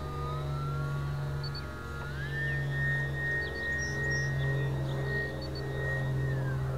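An E-flite UMX Yak 54 micro RC plane, carrying a Hype 240 that makes it heavier than stock, accelerates vertically out of a hover, its small electric motor whining steadily and rising sharply in pitch, loud and continuous.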